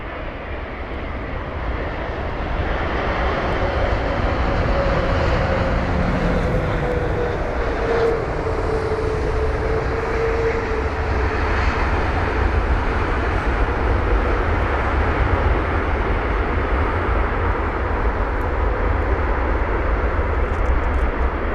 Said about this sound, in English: This is flight number DL186, the A330-900 with the reg November 421 Delta X-ray.